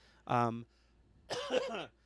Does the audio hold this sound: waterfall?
no